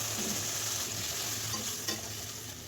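Hill seeds frying in a pan make a constant close sizzle, broken by a brief scrape of stirring near the end as the hiss slowly eases, with no talking.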